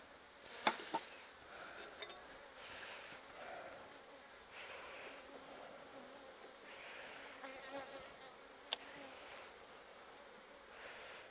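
A populous hive of honey bees hums steadily in the background, a faint, continuous buzz with a few brief clicks and knocks over it.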